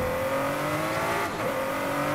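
A tuned car engine in Forza Horizon 5 revs steadily with a droning, slightly synthetic tone, pitch dipping and rising once; continuous and fairly loud, no voices.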